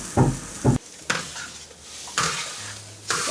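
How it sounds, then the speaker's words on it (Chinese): Shiitake mushrooms stir-fried in a wok give a steady close sizzle broken by several loud scraping stirs of a utensil against the pan, with no voices. "要把香菇带下去炒一下水"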